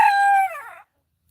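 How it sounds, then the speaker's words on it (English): A chicken's single loud, close crowing call rises and trails off, followed by silence. "So I've got 3 turkeys, and I have got still 8 chickens."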